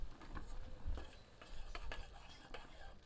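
A ladle stirs masala in a pan for a country chicken curry, making soft, irregular scrapes and light sizzling, faint and close, with no voices.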